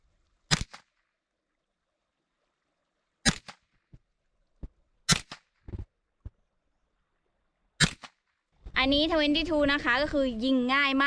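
Four sharp gunshots crack out one at a time, spaced a few seconds apart, in an outdoor parking lot, with faint clicks between them; a person starts talking right after the last shot.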